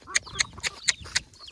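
Chickens gathered at a yard to eat scattered grain, giving a quick run of five or six sharp squawking clucks at a steady pace, close and moderately loud, with no talking.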